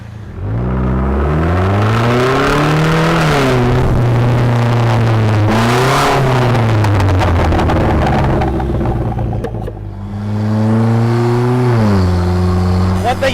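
A Vanderhall three-wheeled car from 2019 drives and accelerates hard, its loud engine note climbing through repeated rev sweeps and dropping between clutchless manual gear changes, close and continuous, with someone talking over it.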